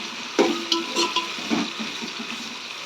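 Tomatoes fry with onions in ghee in a pot for ghee rice. A soft sizzle runs underneath a few close scraping stirs of a spoon.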